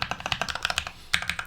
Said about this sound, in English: I think these switches sound and feel great.